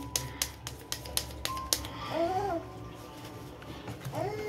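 A baby nearby babbles in short rising-and-falling vocal bursts, interspersed with sharp clicking taps like keyboard typing in a slightly noisy room.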